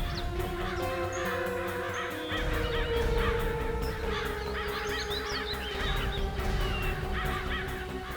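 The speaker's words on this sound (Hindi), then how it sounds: "बहुत सारे कौवे भी मंडरा रहे हैं।" Many crows caw repeatedly in a noisy, overlapping chorus around an area near water, the harsh calls continuing over a steady background hum.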